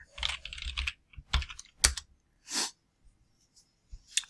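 Bursts of keystrokes tap on a computer keyboard while Python code is entered, with quick clusters of clicks, pauses between them and a soft breath in a quiet room.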